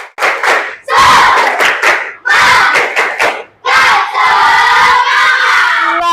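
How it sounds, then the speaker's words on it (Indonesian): Seated classroom group standing up for the Indonesian tepuk semangat spirit clap, loud rhythmic clap patterns in bursts with shouted chant words, pauses between rounds, voices rising together near the end. "Tepuk semangat."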